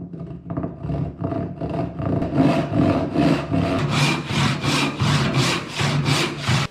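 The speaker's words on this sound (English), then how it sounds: "start sawing it off" Steady back-and-forth strokes of a hand saw biting through a wooden board, rhythmic and close, growing louder and rougher as the cut deepens.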